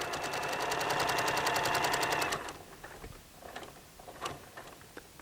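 A sewing machine stitches a pillowcase in a fast, loud, even run of needle strokes for about two seconds, then stops, followed by faint clicks and fabric handling.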